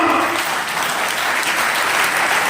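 Loud, dense applause from a seminar audience at an RCM business event in Varanasi, a steady wash of many hands clapping that fills the whole moment without a break.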